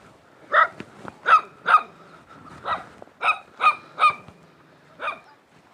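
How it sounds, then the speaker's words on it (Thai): Sharp, repeated barks from a dog in a remote mountain village without electricity, eight or so clear yaps in an uneven rhythm, fairly close and loud with no talking. "เห่าดีขนาด"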